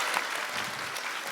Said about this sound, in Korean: 우리 박수로 함께